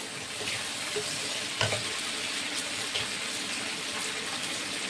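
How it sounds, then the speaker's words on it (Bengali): Steady, close sizzling of potatoes frying in hot oil as spices are added, with a brief clatter of stirring partway through. "আলুটা ভাজা আমার হয়ে গেছে, এবার আমি মশলা দিয়ে দেবো"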